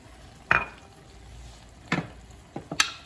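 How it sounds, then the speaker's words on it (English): Cabbage and ground beef seasoned with cumin, red pepper flakes and salt, stirred as they cook in a pan: a soft sizzle beneath a few sharp scrapes and clatters of the spoon against the pan, close and with no talk. "Stir and cook."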